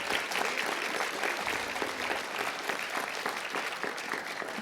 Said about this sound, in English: Please give her a nice round of applause.